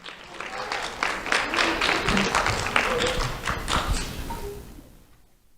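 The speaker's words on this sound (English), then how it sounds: "Let's have a round of applause for James Belmer." At a sheriff's office award ceremony, the crowd applauds a young recipient with dense, close clapping and a few thumps, then the sound thins and fades out toward the end.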